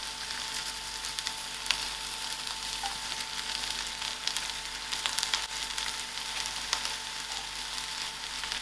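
Spinach herbs going into soft onions frying in a pan, a steady close sizzle with scattered crackles and pops throughout, no voices.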